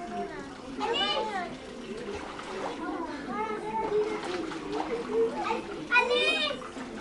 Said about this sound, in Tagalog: nasasayang yung tubig na natapon